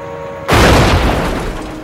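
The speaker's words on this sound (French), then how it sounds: "La grenade que j'ai lancée a explosé près de la chenille." A grenade explodes close by near a tank track in a war video game set at the battle of Lang Vei. One sudden loud boom leads into a rumbling, crackling tail, with no talking.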